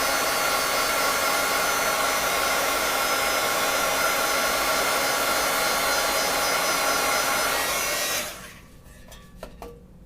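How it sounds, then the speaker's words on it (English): A heat gun blows a loud, steady roaring whoosh over wet watercolor paint for about eight seconds, then cuts off, leaving a few faint clicks and knocks. "but I like to use my heat gun"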